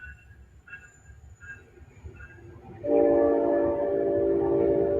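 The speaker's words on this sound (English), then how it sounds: "the train's going by my house. Ooh, hear that whistle" A train rumbles past with a loud, sustained horn blast that begins partway through and holds steady over the low rolling noise.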